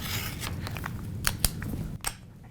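Scissors cut through paper along an envelope template, giving a few quiet, close snips and crisp blade strokes spaced irregularly over a soft background.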